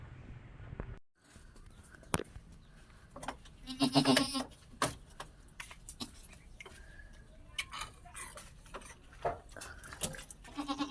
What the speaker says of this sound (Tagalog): Ang manganganak na ang ating kambing ngayon, hindi na mapakali.